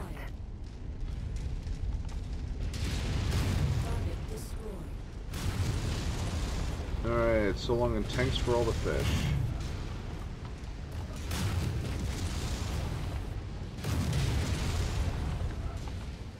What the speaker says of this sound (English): That was not the explosion that I thought it was.